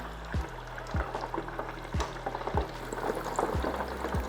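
A rice patty deep frying in 375-degree oil, bubbling and sizzling steadily up close, with a low regular thumping hum underneath and no talking.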